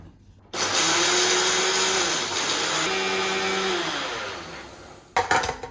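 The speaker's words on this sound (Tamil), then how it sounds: "இதையும் மிக்சியில் போட்டு அப்படியே ஒரு ஸ்ட்ரோக் அடிச்சுக்குவோம்" A kitchen mixer grinder pulverising jaggery into powder for ragi laddu, a loud steady whirring roar that runs for several seconds, dips slightly in pitch midway, then cuts off abruptly.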